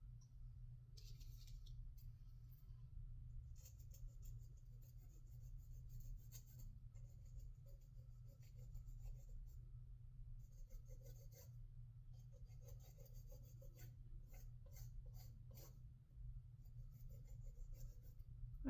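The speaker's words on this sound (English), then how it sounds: "now the form can go in the trash and I can start filing" Steady rasping strokes of a file shaping an acrylic nail enhancement, continuous and close, with short pauses between passes over a low constant hum.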